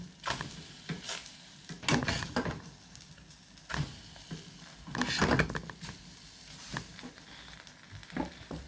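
Sausages coated in onion batter frying in a pan make a close sizzle, broken by repeated bursts of stirring and scraping that swell and fade in uneven waves.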